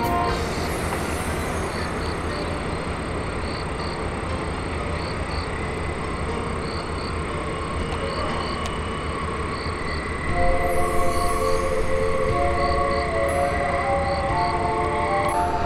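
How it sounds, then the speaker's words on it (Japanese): A Kintetsu local train draws closer on a sparsely served line toward Ise, its steady rumble and rolling wheel noise growing, with a brief swell of rail sound near the end. "向こう側からも普通列車がやってきますね"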